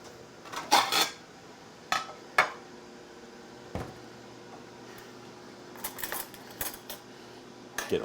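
A plate and fork are taken out and handled in a kitchen, giving a few sharp ceramic and metal clinks and clatters scattered over quiet moments.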